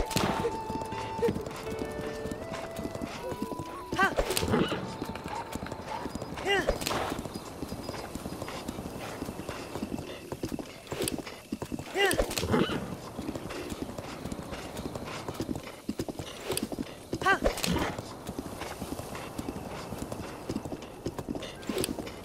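Horse hooves gallop in The Legend of Zelda: Breath of the Wild on Master Mode, a steady, close clip-clop rhythm running throughout with a few sharper thuds and a brief whinny-like call over a constant game background.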